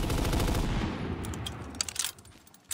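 Rapid machine gun fire in Black Ops 3 custom zombies on a Minecraft Sand Islands map, a loud dense burst at first that fades into scattered, fainter shots and clicks.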